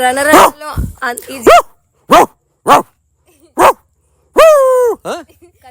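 A person mimics a dog with a series of short, sharp growling barks and yelps, spaced out in bursts, close and loud.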